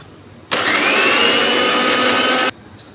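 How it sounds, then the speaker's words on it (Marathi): A mixer grinder whirs loudly for about two seconds, grinding roasted green chilies into a coarse thecha, starting and stopping abruptly with quiet before and after. "ह्या मिरच्या मिक्सरच्या भांड्यामध्ये काढून घ्यायचे त्याचा मस्त बारीक ठेसा करून घ्यायचा"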